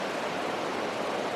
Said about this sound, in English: You probably can hear the wind in the background.